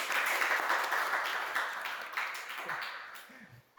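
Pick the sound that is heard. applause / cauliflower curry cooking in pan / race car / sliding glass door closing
applause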